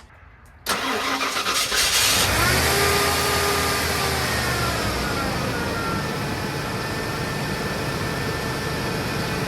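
A V8 car engine cranks and catches after a short pause, then settles into a loud, smooth, steady idle on all eight cylinders, close up with no misses.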